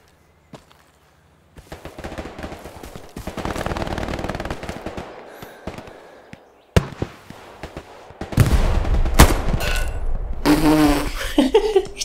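Gunfire in the World War II shooter game Hell Let Loose, including bursts from an SMG, crackling in clustered volleys with sharp single shots and heavy rolling bursts, loud and close near the end.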